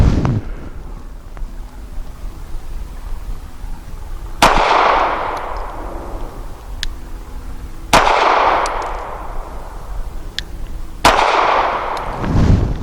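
Rock Island 3.1-inch double stack .45 pistol fired at an outdoor range: three loud, sharp gunshots spaced a few seconds apart, each with a rolling echo, plus fainter distant shots between.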